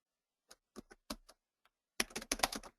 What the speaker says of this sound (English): I'm going to type in something here